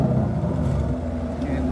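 Engine of a Chevrolet Monte Carlo SS running loud and steady with a deep low rumble that never clearly climbs into a rev, while people talk close by and music plays.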